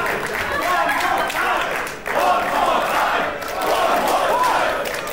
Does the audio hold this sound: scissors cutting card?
no